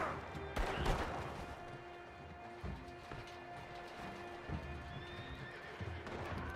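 A horse in a video game neighs and whinnies over steady clip-clopping hooves. The sound is moderately quiet, with a few sharp knocks scattered through it and little or no talk.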